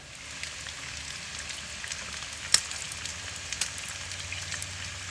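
Bacon strips sizzling steadily over a hickory fire, a dense even crackle with occasional sharper pops, close and constant throughout with no talk.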